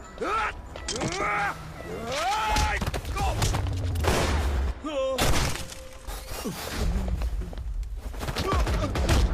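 Gunfire rings out in a Hindi-language action film scene: sharp bursts and shattering impacts mixed with dramatic effects, while voices shout and groan in between.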